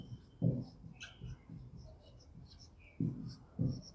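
A teacher writes a note on a classroom board in a chemistry lesson, making short scratchy writing strokes in small bursts. A few firmer taps stand out, and the whole is quiet and close with no talking.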